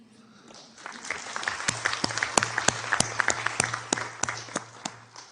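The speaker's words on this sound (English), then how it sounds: "There must be a great round of applause" A conference audience at a UN council side event gives a round of applause, steady dense clapping from a sizeable room with a few sharp nearby claps standing out, sustained for several seconds with no talk over it.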